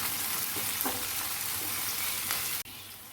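Chopped onion and tomato sauté in a hot pan, giving a continuous close sizzle with faint stirring scrapes that briefly cuts out near the end.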